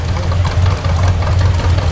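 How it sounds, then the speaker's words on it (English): Loud, steady low-pitched putt-putt of a 1930s John Deere two-cylinder magneto tractor idling nearby, its uneven beat throbbing through the whole stretch with no talking. "It's John Deere butt head, but it's still a 2-cylinder tractor run by Magneto"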